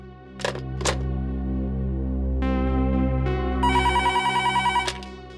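A telephone rings with a rapid trilling bell near the end, over a steady musical drone, after a couple of sharp clicks early on.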